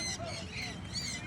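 Many imported pet birds, including pikoy, gathered at a bird competition, giving off overlapping high chirps and whistles against a busy, crowded background.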